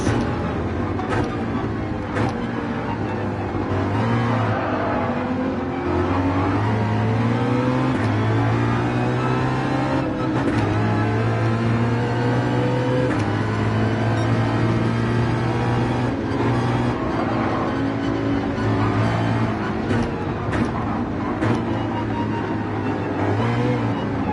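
A Porsche 911 GT3 engine in the racing game Gran Turismo 7, lapping Mount Panorama: a continuous loud engine note rising and falling with repeated gear shifts and revving through the whole stretch.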